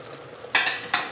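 Ingredients for Kabyle berkoukes frying in a pot, a soft sizzle with two brief louder scraping stirs close by, no talking.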